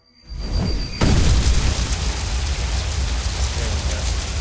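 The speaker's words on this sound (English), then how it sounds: "So I'm going to do the fire explosion one more time." A fire explosion effect played during a tabletop role-playing game session bursts in suddenly after a brief quiet lead-in, then settles into a sustained, loud crackling roar like rain on a surface, with no voices.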